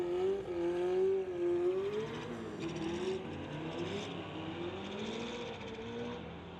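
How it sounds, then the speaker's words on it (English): A 1987 Honda and a 1980 Camaro launch down a drag strip, a loud engine revving and rising through gears, then fading slightly as the cars pull away, with no talking. "Harb Rube in the 1987 Honda in the TCS lane going against Mark in his"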